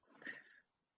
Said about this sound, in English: And that's my cat, Snickers, on my tray.